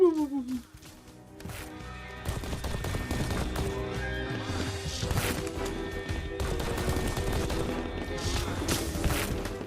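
Rapid gunfire from a gun in the game Barkour: a dense run of sharp, repeated shots lasting several seconds, heard under frequent talking.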